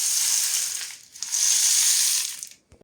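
A homemade rain instrument filled with beans, rice and smaller beans is tipped twice, sending two close, loud sweeps of hissing rattle, each rising then fading, with a brief pause between them and a small knock at the end.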